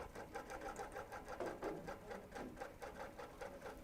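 Sewing machine running a basting stitch along a quilt edge, a close, steady rhythmic whir with pulsing needle strokes heard alone at moderate volume.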